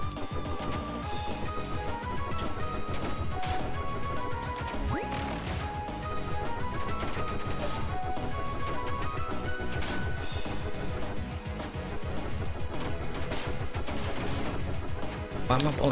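Rapid bursts of gunfire from the pixel-art video game Tiny Pixels Ninpo Blast, repeated sharp crackling shots and impacts layered over game music, continuous and moderately loud.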